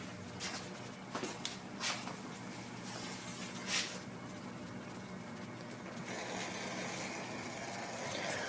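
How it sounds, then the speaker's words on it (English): A used two-speed wiper motor on a 1967 car runs through low and then high speed, giving a steady mechanical whirr with occasional knocks and clunks that grows denser and louder partway through. "Alright, 2-speed wiper motor. You can see it's on low speed there and high speed."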